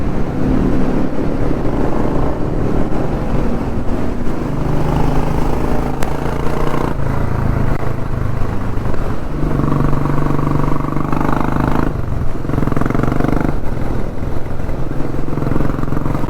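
A group of Hero Xpulse motorcycles rides off-road on a breakfast group ride, their engines droning loudly and continuously with shifting pitch as bikes pass and change throttle.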